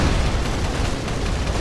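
Tank cannon fire in the video game Rise of the Reds, a loud, continuous booming roar of blasts that fills the whole short stretch.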